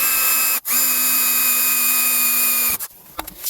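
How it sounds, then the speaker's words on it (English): A power drill fitted with a thin bit bores into a timing belt component on a Peugeot 308, giving a loud, steady whine that stops briefly, resumes, then cuts off near the end with a few short bursts. "So we've drilled a little bit, and now I'm gonna slightly widen it with a different drill bit"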